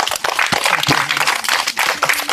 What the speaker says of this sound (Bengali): একটু একটু হাততালি দাও সবাই